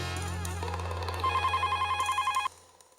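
Telephone bell ringing indoors in a Hindi comedy sitcom scene, a steady electronic trill of repeated rings that cuts off abruptly, with music under it.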